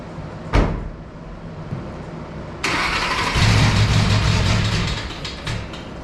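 A Ford Mustang with a leaking aftermarket fuel setup cranks, then catches with a sudden loud start and settles into a rough, throbbing idle close up, preceded by a sharp knock.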